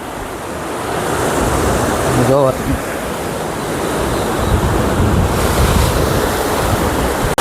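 Sea waves surge at high tide under a full moon at Bijali Baru near Mahuva harbour, a loud continuous wash of surf with wind buffeting the microphone, and a voice speaks briefly over it.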